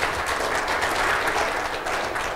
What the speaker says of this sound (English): So please give a warm round of applause to Mr.